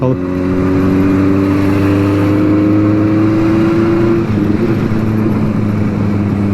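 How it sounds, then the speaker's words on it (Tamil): An old Benelli 600i motorcycle engine revs loud and close, holding a steady high-pitched drone for about four seconds before easing off into a rougher idle. "நல்ல ட்ராட்டில் கொடுத்தோன்னா ஹை ஆர்பிஎம் வரும்போது சவுண்டு சூப்பராக திறக்குது"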